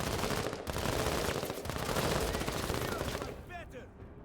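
Sustained bursts of automatic gunfire in a combat video game, loud and dense, with rapid overlapping shots that ease off toward the end as chirping electronic effects come in.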